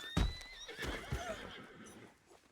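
A horse in a Wild West roleplay video game neighs sharply up close, a short whinny with a few hoof clops, followed by fainter snorting.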